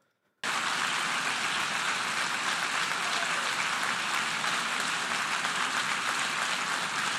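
Sustained applause from a large assembly at the United Nations following a speech by Emmanuel Macron, starting abruptly and continuing as a dense, steady wash of clapping with no pauses.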